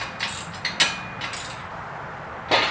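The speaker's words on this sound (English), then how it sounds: "a 17 millimeter wrench and a 17 millimeter socket, I'm going to snug those up right now first before I do anything else." A 17 mm wrench and socket tightening bolts on a Harbor Freight tire changer, a few short metallic clicks and ratchet scrapes close by, spaced irregularly with quiet gaps between them.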